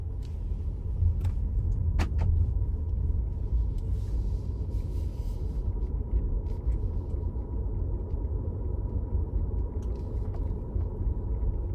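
A Mercedes EQS 450+ electric car driving, a low steady road rumble heard from the cabin, with a few faint clicks and taps along the way.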